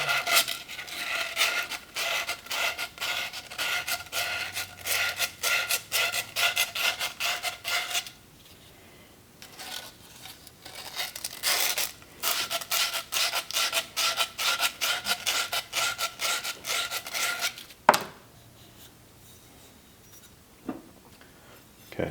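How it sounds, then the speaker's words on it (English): Sandpaper scrubs a pipe end while a Pfister tub and shower faucet goes in, giving close, rapid back-and-forth rasping strokes in two long bursts separated by a quiet pause, then a few sharp knocks. "And we'll give it a little sand."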